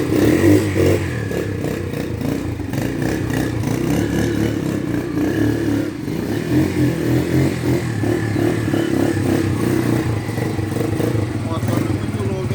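A Shineray Jef 150 motorcycle engine runs steadily at close range, a continuous rough mechanical drone with light clatter, holding an even level throughout with some talk in the background.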